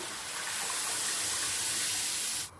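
Water from a glass pours in a steady rushing stream onto rice and chana dal in a pot for pulao. It stays close and fairly loud for about two seconds, then stops abruptly.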